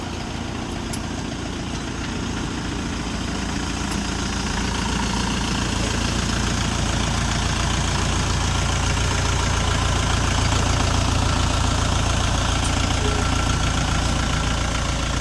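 A Chinese Dongfeng 404 G2 mini tractor with a cab idles steadily up close, its diesel engine giving a loud, even, rumbling chug that holds for the whole stretch without talk.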